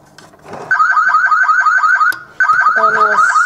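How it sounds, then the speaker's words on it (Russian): A toy car's electronic alarm siren sounds loud and close, a repeating warbling tone pattern that starts abruptly, stops briefly, then resumes with extra beeping tones layered in. "Это у него сигнализация."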